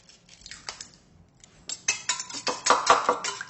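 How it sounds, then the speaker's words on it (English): One egg being beaten in a bowl, starting with a few light taps and then building into rapid, close clinking and scraping strokes that grow louder toward the end. "Beat 1 egg."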